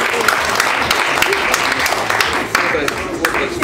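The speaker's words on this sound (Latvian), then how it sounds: "dāmas un kungi, aplausi!" An audience applauds performers, loud, dense clapping that holds steady throughout, with voices mixed in.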